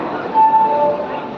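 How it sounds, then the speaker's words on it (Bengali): A commuter train pulling into a station platform, a steady close rumble of wheels and carriages with a brief tonal horn note on top. "ট্রেনটাও ঢুকছে।"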